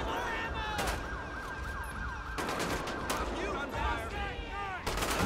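Gunfire crossfire in a GTA 5 police SWAT firefight, dense and continuous shots from several directions, with a siren wailing in and out behind it.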